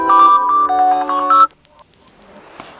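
Platinum alarm ringtone melody played on a CUBOT X70 phone, a bright electronic tune of a few quick repeating notes lasting about a second and a half, then cut off into near silence with a faint tap.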